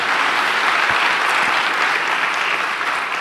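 An audience at a talk breaks into loud, sustained applause, a dense wash of many hands that carries steadily throughout without speech.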